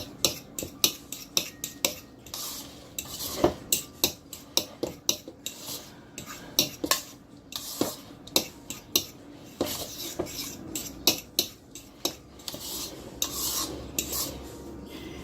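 Cauliflower pizza dough ingredients being mixed in a bowl, producing a quiet, irregular series of scraping, clinking stirs against the bowl, each stroke a short rasp, continuing steadily with no talking.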